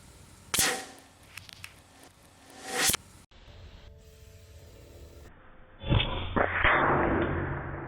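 Umarex Origin .25 caliber PCP air rifle fired at a target, giving two sharp cracks a couple of seconds apart, followed by a louder burst of impact noise that trails off into a rough wash.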